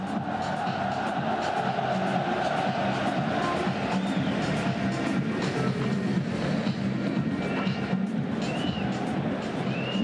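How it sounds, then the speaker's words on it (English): A restless stadium crowd at the AFC Champions League final between Guangzhou Evergrande and FC Seoul gives off a dense, steady roar of massed voices and distant chanting, loud and unbroken throughout. "I think the crowd are getting fairly restless now"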